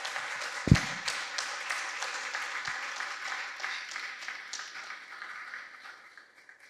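Audience clapping at a conference, a steady round of applause from a crowd that slowly fades toward the end, with a thump near the start.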